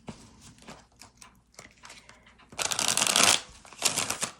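Tarot cards being shuffled up close, with a soft patter of handling followed by a loud, dense riffling burst and a second shorter riffle at the end.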